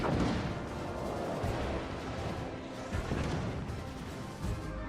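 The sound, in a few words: warship secondary guns firing in World of Warships: Legends video game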